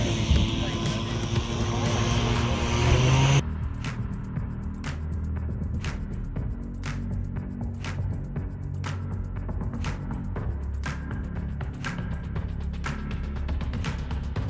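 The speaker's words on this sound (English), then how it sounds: "So this is a radial engine." A vintage aircraft's radial engine runs with a deep, rumbling drone and regular throbbing pulses at a fly-in in Palmyra, Wisconsin, loud and close, with voices talking over it.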